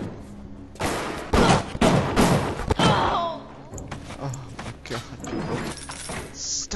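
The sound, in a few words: hacked turret firing in video game Bioshock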